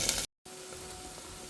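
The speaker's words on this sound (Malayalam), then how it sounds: "ഉള്ളി നല്ലോണം മൂത്തുന്നു." Onions frying in a pan with cardamom and cinnamon for chicken kanji, a steady close sizzle that cuts out briefly, then resumes as a softer continuous hiss.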